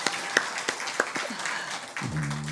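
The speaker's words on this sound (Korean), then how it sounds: "우리 박수로 격려해 주시면 감사하겠습니다" A church congregation applauds to encourage a choir singer, a brief spread of claps with a few sharp single claps, then a low tonal hum or voice enters near the end.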